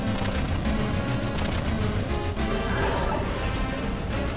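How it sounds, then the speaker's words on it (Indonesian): In Super Mario Odyssey the ground cracks and smashes apart in a dense, continuous roar of crumbling and crashing debris. It stays loud and unbroken throughout with no speech over it. "Waduh, mulai pecah-pecah coy."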